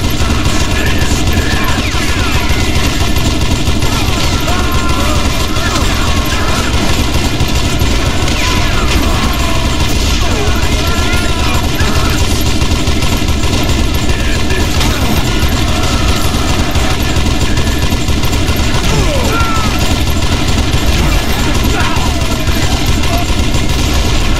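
Call of Juarez: Gunslinger, a Western shooter game, with dense continuous gunfire: rapid overlapping shots and loud rattling bursts that never let up, close and dominant throughout.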